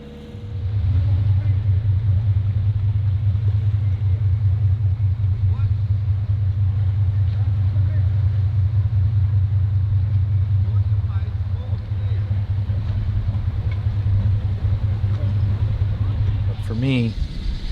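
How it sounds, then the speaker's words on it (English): A sailing yacht's motor drones steadily on a windless, calm sea, a loud, constant low rumble that runs unbroken from start to finish. "we had no wind and the motor was on again"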